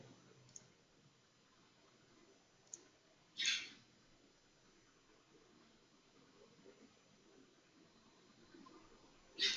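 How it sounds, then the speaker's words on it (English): A computer mouse clicks a few times in a quiet room, sharp isolated taps spaced seconds apart, two faint and two louder, with near silence between them. "Click here and click by clicking here."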